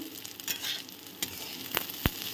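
Cashews and raisins frying in a pan for basanti polao, a soft steady sizzle with a few sharp clinks of a spatula against the pan, close and moderately quiet, no talking.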